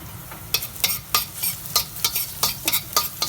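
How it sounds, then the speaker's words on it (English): Garlic browns in olive oil in a pan, a steady sizzle of frying punctuated by a regular series of sharp scraping stir strokes, close and fairly loud with no talking. "We're going to brown the garlic a little bit so that it will infuse its flavor in the olive oil."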